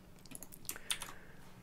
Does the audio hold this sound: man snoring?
no